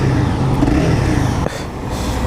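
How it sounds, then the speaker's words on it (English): A 2015 Honda CBR 300R motorcycle engine running close by, a steady droning hum with a brief dip partway through before the engine note settles back, loud and alone without voices. "The sound of the engine is just not crazy, though."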